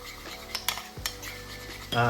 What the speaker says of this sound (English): Then you just want to go ahead and mix everything together.